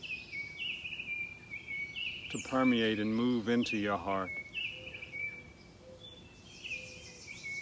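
Birds sing outdoors in the natural world, with steady high chirps and trills running through the whole stretch while a voice speaks calmly over the middle.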